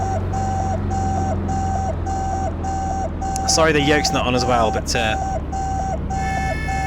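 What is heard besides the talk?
electronic beeping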